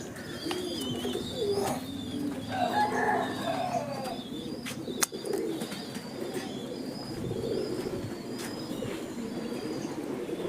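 Pigeons of a two-month-old breeding pair offered at a bird sale coo repeatedly, soft throaty calls overlapping other bird chirps in a busy nearby aviary with steady background noise.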